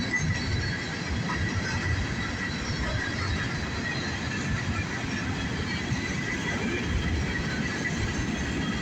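A northbound CSX freight train of empty cars rolling past, a continuous loud rumble of wheels and rattling cars with faint squeals throughout, no voices.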